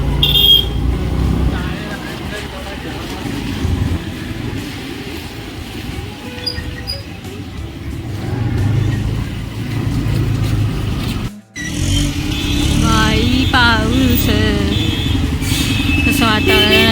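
Busy road traffic in the rain with cars and motorcycles rolls past in a continuous close rumble and hiss, a brief dropout near the end, and people talking over it.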